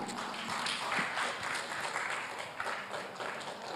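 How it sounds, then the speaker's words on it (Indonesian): Applause from a crowd fills the space, a dense wash of clapping held at a steady level throughout. "Sekali lagi beri tepuk tangan yang meriah untuk Bapak Refli Harun."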